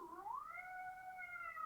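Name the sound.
cat meowing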